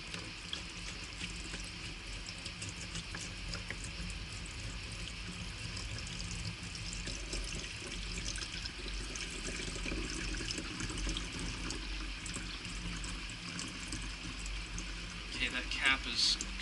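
Metal Rescue rust remover liquid pours steadily into a container with a continuous watery splashing and trickling that carries on throughout at a moderate, even level.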